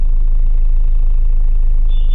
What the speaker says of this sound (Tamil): பார்த்தீங்கன்னா பயங்கர டிராஃபிக்.